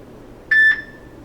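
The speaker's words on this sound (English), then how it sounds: "the first one is beep once." Samsung Galaxy J3 Orbit 'beep once' notification tone, a single short clear electronic beep with a brief fading tail, heard alone over faint background hiss.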